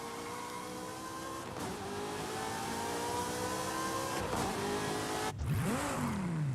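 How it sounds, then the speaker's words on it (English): Ferrari engines in the racing game Forza Horizon 5, a sustained mean-sounding drone building steadily in pitch, then a sharp gear change near the end followed by a rising rev, loud and continuous without speech. "These Ferraris sound really mean. And we got some really good Ferrari recordings in the game now."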